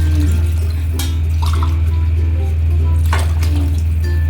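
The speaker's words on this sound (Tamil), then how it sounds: "இப்போ தண்ணி ஊற்றிக்கலாங்க." Water poured into a pan of sautéed tomato rice, giving a brief splashing pour over a steady background hum, with a couple of short liquid bursts close by.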